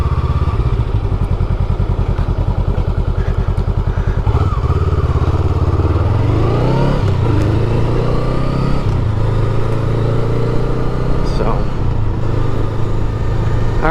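A 2023 Honda Rebel 500 motorcycle rides steadily around a physics laboratory campus, its engine droning low and continuous with gear shifts and a few rising revs, loud and close throughout with wind noise.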